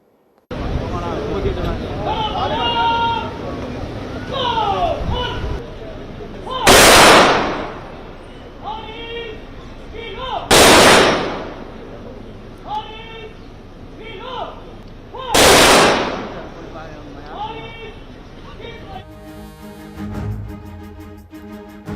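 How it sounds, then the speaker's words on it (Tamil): A 72-round gun salute at a state funeral: three sharp, loud volleys of rifle fire crack at intervals of about four seconds, with crowd noise and a voice between them and a brief burst of music at the end. "3 ரவுண்டுகளாக 72 குண்டுகள் முழங்க இறுதி அஞ்சலி"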